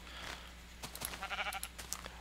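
A Minecraft sheep gives a short wavering bleat in the middle of a quiet stretch, faint and close, with a few soft game clicks around it.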